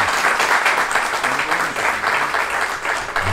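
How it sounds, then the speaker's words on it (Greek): Warm, sustained applause for a woman honoured at a Silver Alert memorial event, continuous crowd clapping at an even level throughout. "Ένα θερμό χειροκρότημα για την κυρία Αρνάκη"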